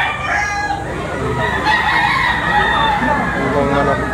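A seven-month-old rooster at a poultry auction market in the Philippines crows loudly and close by, one long drawn-out call that fills the whole stretch, with some background noise beneath it.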